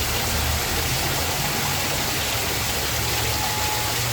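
Water pours steadily at a pumping station inside a haunted tent attraction, a dense, constant rushing wash that fills the space with no voices.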